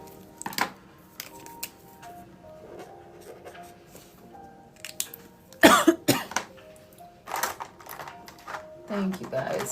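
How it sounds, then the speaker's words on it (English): A person coughs sharply a couple of times close by, amid soft clicking and tapping sounds of desk work, with some faint talking in the background. "I would love to get rid of this cough."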